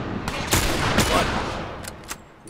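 Gunshots in The Last of Us video game come as a few quick loud bangs with reverberant tails, close and with no talk.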